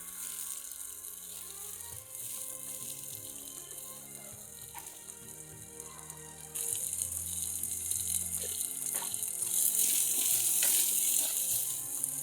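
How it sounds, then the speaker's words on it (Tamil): Chopped onions and green chillies sauté in a pan for a bottle gourd stir-fry, giving a steady sizzling hiss that grows louder and fuller partway through, close up, with no talking. "கட் பண்ணி வச்சுருக்கிற வெங்காயத்தையும் சேர்த்துட்டு நல்லா வதக்கி விட்டுக்கலாம்"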